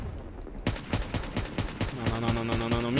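Rapid gunfire from a sniper match of Call of Duty Black Ops 3 on Xbox 360, a burst of sharp, evenly spaced shots repeating about every quarter second, loud and close, with a steady tone joining near the end.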